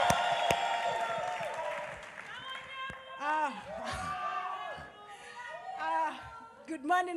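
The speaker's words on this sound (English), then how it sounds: "give us some round of applause" Applause from a church congregation, fading early on, while a voice speaks over the crowd noise and the room carries on with chatter.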